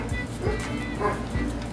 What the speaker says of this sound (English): My dog's barking at somebody.